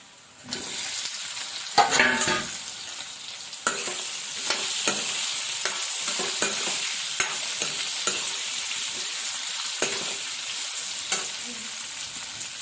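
Pork frying in a wok for a Mising-style dish: a continuous close sizzle of hot fat punctuated by repeated sharp scrapes and clatters of stirring, fairly loud and without voices.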